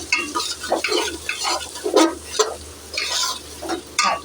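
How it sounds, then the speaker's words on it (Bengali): Potato pieces fry in a pan while a utensil stirs them in repeated scraping, rustling strokes over a steady sizzle, close and fairly loud, with no voices. "দিয়ে আবার ভালো করে একটু ভেজে নেব। দেখো অলরেডি আলুটা অনেকটাই ভাজা হয়ে এসছে।"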